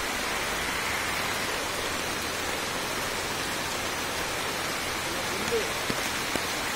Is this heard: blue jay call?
no